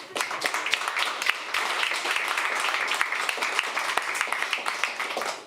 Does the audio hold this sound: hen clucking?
no